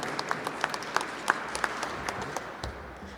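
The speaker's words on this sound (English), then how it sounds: "Let's give her a round of applause, please." Applause from an audience at an after-school programs event, steady scattered clapping with sharper claps standing out, fairly close and moderately loud, without talk.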